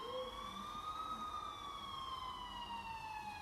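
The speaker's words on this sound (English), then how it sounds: "I finally heard sirens in the distance." A single siren wails slowly up and down, faint and far off, over a quiet background hiss.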